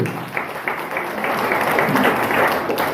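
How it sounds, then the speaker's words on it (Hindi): Crowd applause for the mentors at a business success celebration in Bhabua–Varanasi, steady dense clapping filling the whole stretch with some crowd murmur beneath. "हम चाहेंगे सारे गुरुदेव के लिए एक बार जबरदस्त ताली होना चाहिए"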